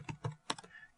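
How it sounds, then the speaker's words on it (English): Several quick keystrokes on a computer keyboard, close and soft, in an uneven burst of about five taps. "we're going to type in kitchen"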